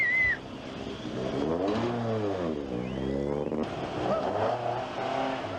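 An Opel Manta 400 rally car pulls off the start ramp at the 1987 Rally Jordan, its engine loud and close, revving hard through rising and falling gear pulls before settling into a steady high drone.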